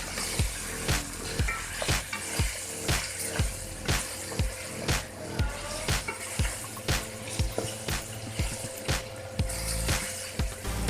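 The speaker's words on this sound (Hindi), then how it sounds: "पाँच मिनट हमने भून लिया।" Peshawari salted meat with turmeric frying in a pot, a continuous sizzle broken by regular clanking stirs of a utensil against the pot, close and alone without speech.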